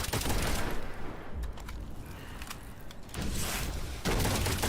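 Rifle enemies in the LEGO Horizon Adventures video game fire in dense, rapid volleys, loud bursts of gunfire that ease off midway and then return heavily.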